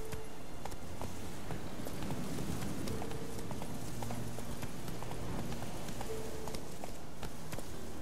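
Roach, a horse in The Witcher 3, gallops in a steady, fast rhythm of hoof clip-clops that sound close and loud throughout, over a busy ambient background of wind and distant rustling.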